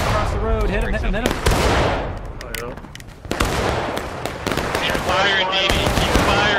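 Sharp musket shots crack repeatedly in the War of Rights Civil War battlefield game, a dense scatter of near and distant reports with no steady rhythm, heard under continuous excited talk from players.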